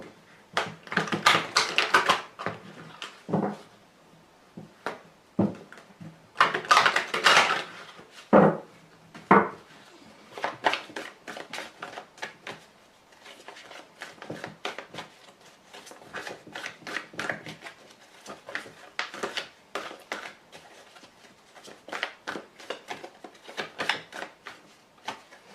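Tarot cards from a Mademoiselle Lenormand grand jeu deck being drawn and laid out, giving repeated close, dry taps, slaps and shuffling clicks in uneven clusters across the whole stretch, with no voice.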